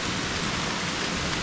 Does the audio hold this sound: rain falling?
yes